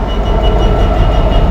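Close, loud low rumble of a passenger train rolling through Birmingham International station without stopping, a dense steady roar over a brief moment.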